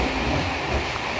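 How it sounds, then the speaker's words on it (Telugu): A train runs steadily across a river bridge at night, a continuous broadband rumble heard from aboard another moving train, with no talking. "అవతల బ్రిడ్జ్ మీద ఒక ట్రైన్ వెళ్తుంది."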